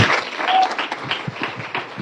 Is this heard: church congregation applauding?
yes